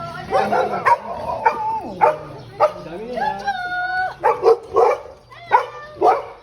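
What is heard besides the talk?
dog barking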